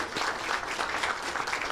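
An audience at a groundbreaking ceremony claps in a steady, moderately loud round of applause, a dense patter of many hands that continues throughout.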